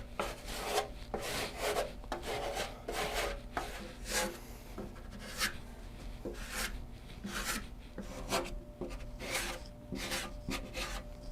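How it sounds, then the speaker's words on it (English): Pore filler is wiped and squeegeed thinly across the wooden side of an acoustic guitar, making a steady run of close, rhythmic rubbing and scraping strokes with no talk. "wiping it on like this, squeegeeing off"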